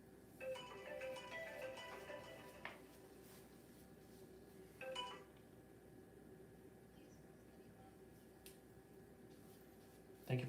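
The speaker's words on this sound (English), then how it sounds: "Phone's ringing." A telephone rings faintly in a quiet room at a photographic printing workspace, two short electronic trilling bursts separated by a pause, with low background hum throughout and a brief rustle at the end.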